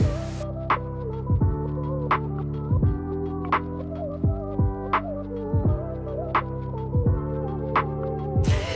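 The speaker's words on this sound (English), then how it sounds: "Let's hop over to the machine and let's get quilting." A sewing machine doing free motion quilting: a steady motor hum with regular soft thumps from the stitching, running alone.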